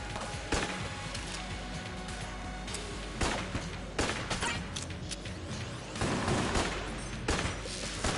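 Gunfire in Enter the Gungeon comes as rapid volleys of sharp shots, with louder bursts around the middle and near the end, continuous and close, with no voice.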